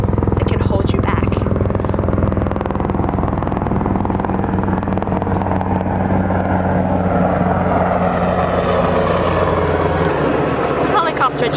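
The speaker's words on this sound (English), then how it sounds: "The helicopter just flew by." A helicopter passes by outdoors as a loud, continuous engine and rotor drone that holds steady for several seconds and then fades slightly toward the end.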